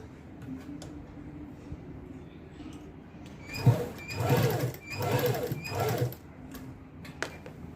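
Sewing machine stitching fabric in three short rattling bursts of rapid needle clatter, close and moderately loud over a quiet room with faint clicks and handling noise.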